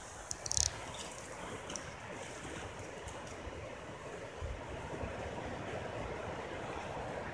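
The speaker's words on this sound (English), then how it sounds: "here's a little waterfall" Small waterfall on an East Coast hiking trail, water shooting out over rocks: a steady, broad rushing wash that holds constant throughout, with a few faint bumps near the start and no talking.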